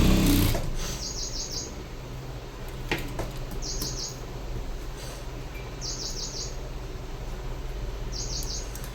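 A sewing machine stitches a high-neck blouse with a steady low running hum, while a bird chirps in short bright bursts every couple of seconds in the background.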